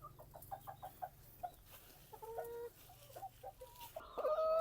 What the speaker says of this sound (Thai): ไก่พันธุ์ไข่